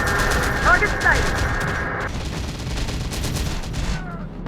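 Rapid gunfire in the video game Terminator: Dark Fate - Defiance, dense bursts of shots layered with battle noise, loud and continuous, with voices talking over it.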